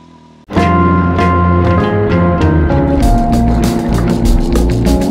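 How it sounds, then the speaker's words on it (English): A vehicle engine fires up on fresh gasoline, catching suddenly after a brief quiet moment and then running loud and steady close by. "let's see how she's gonna fire up with good gas"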